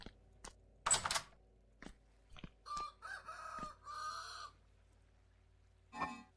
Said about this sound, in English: I say here roosters, I think it's morning.